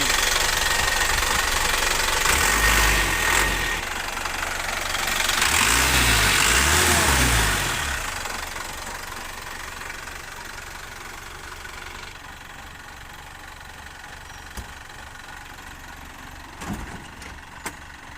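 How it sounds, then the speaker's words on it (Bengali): The diesel engine of a 14-foot Jac truck idles with a steady knocking rumble, louder at first and then settling into a quieter, even idle. "গাড়িটি রানিং অবস্থায় আছে"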